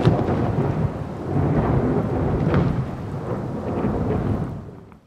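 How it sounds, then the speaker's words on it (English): A heavy night thunderstorm in the wild, with steady rain and rolling rumbles of thunder that stay loud and continuous before fading out at the end. "A huge thunderstorm continues throughout the whole night."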